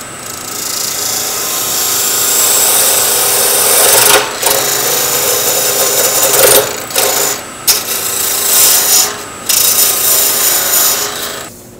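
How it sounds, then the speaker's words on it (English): Wood lathe spinning at 1800 RPM with a parting tool marking the ends of the wood, a loud, continuous whirring hum with rough cutting rasp and several short sharp scraping bursts, close up, with no talk. "All right, I'm turning my lathe right at 1800 RPM."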